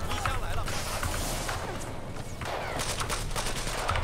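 Rapid gunfire in the video game Battlefield 4, with steady, dense bursts of shots running through the whole stretch under a player's talk.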